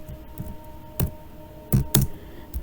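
Sparse, irregular key clicks on a computer keyboard while C program code is being typed, a few distinct taps with pauses between them against a quiet background hum.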